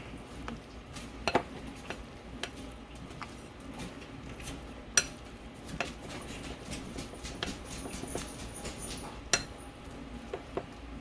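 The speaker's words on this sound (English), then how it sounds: "You just kind of stir it together and it becomes like a dough" Buckeye candy mixture being stirred into a dough, a steady soft scraping and stirring with occasional sharp clinks of a utensil against the bowl, close and fairly quiet with no talk.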